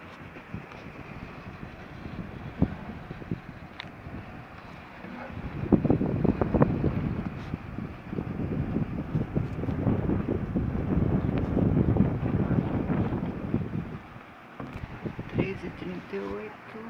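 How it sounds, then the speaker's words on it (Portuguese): Strong, steady gale in São Vicente roars and buffets the microphone, swelling louder through the middle and easing near the end. "Venta bastante."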